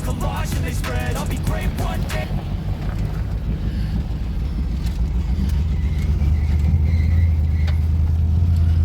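A 1967 Ford Thunderbird engine idles steadily just after its first start, a low constant rumble under heavy wind buffeting, with a few sharp knocks early on.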